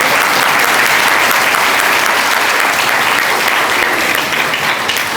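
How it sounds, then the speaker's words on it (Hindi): A large crowd at a devotional talk claps loudly and continuously, a dense, even wash of applause filling the whole stretch with no voices on top. "यमराज के पास बजाओ बजाओ ताली।"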